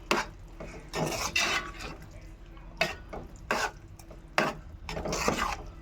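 Gongura leaves being stirred into mutton curry in a pot, a series of scraping, rasping spoon strokes against the pot at an irregular rhythm, close and fairly loud, with no talking.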